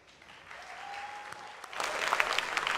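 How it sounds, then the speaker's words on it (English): Applause from the audience at a fireside chat event starts softly behind a brief tone, then swells into louder, fuller clapping during the second half. "A big round of applause for Zoya."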